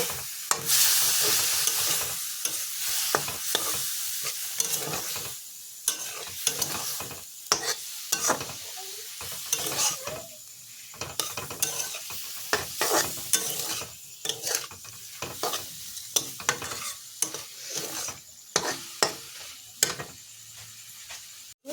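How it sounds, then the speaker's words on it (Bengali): Mustard paste is stirred into vegetables frying in a pan for a sorshe data chochchori. Soft sizzling runs under frequent scraping and tapping strokes of a spatula, close and irregular, with no voices. "এর মধ্যে দিয়ে দিচ্ছি আমি এখন সর্ষে বাটা। একটু নেড়ে চেড়ে নেব।"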